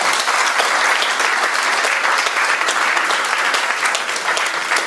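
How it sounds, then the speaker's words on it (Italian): A crowd at a heritage event in Genoa claps after a poem recitation, sustained and even applause from many hands, full and fairly close, fading slightly toward the end. "E qui l'applauso."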